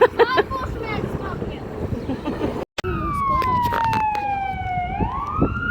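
An ambulance siren wails in the distance in Kamianske, Ukraine, heading toward a neighborhood fire, its tone sliding steadily, under voices and street noise.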